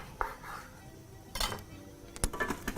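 A knife cuts halfway into a lemon on a board, giving a few soft, close knocks and light clinks spread over a couple of seconds, with quiet moments between them.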